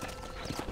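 Horse hooves clip-clopping in the video game Red Dead Redemption, a few soft, low thuds at a walking pace, fairly quiet and close, with no talking.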